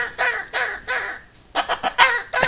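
A pet bird gives a series of loud, harsh, crow-like calls close by, several squawks in a row followed by a quicker burst, with no talking.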